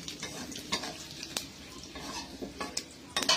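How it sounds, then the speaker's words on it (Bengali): Panch phoron and bay leaf hit hot oil with a sizzle while a utensil scrapes and clinks against the pan in irregular strokes, close and without speech. "দিলাম পাঁচফোড়ন, তেজপাতা, মিশিয়ে দেবো।"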